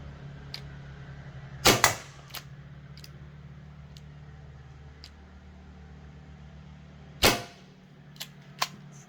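A Byrna SD less-lethal launcher fires from a 7-round magazine: two sharp, loud pops several seconds apart, each with a short rattle, over a low steady hum with faint ticks in between.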